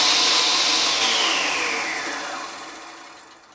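A Rockwell Beaver table saw under restoration runs loud at first, then winds down steadily as the motor and blade slow, its pitch dropping and fading over a few seconds.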